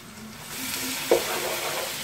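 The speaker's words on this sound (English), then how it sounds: "And now we just saute these nicely and give them a little bit of colour." Prawns sizzle and fry steadily in a hot pan with spices as they are sautéed, with a continuous crackling hiss and a brief louder stir or clatter partway through; no talking.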